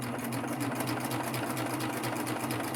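A Baby Lock Triumph overlock serger stitches along a folded denim edge with a fast, steady, close mechanical hum and rapid rhythmic needle chatter throughout, and no one talks.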